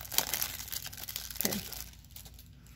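A Yu-Gi-Oh Speed Duel card pack wrapper being torn open by hand, close crinkling and ripping of foil plastic in a few quick bursts that fade to quiet near the end.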